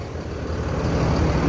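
Intercity bus pulling into a station, heavy diesel engine rumble rising steadily over about a second and a half, close and fairly loud; no distinct air-brake hiss stands out.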